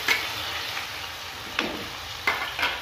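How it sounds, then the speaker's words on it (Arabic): Onion going into hot oil in a pan as part of making a pastilla, a soft continuous sizzle with a few sharp crackles and pops rising above the steady frying hiss. "داك لاصوص داك الزيت اللي طاب فيه اللدان غادي ندير فيه البصله ديالي"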